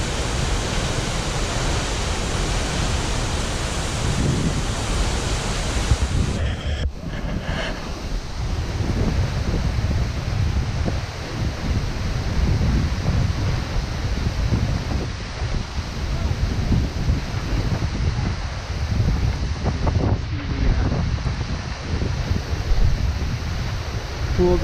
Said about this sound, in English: Certainly the most powerful and biggest, tallest, Multnomah Falls.